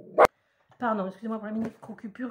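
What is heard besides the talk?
dog barking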